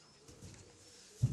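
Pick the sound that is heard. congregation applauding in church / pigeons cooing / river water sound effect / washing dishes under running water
pigeons cooing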